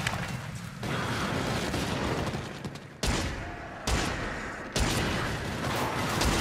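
Shotgun blasts in the video game Until Dawn, several dense, roaring reports that fill the sound and cut off abruptly, with short quieter gaps between bursts, loud and close.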